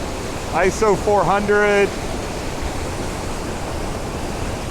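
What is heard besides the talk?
waterfall at Tokul Creek, Washington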